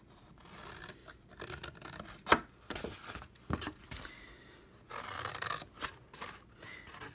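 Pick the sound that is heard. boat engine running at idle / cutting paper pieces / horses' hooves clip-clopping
cutting paper pieces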